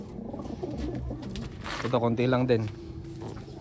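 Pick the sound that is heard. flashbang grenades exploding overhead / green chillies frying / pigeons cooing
pigeons cooing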